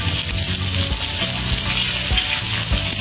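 Bangda mackerel fillets frying in a pan of hot oil, a loud, steady close-up sizzle with crackling bursts and a few soft clatters, heard alone without talk.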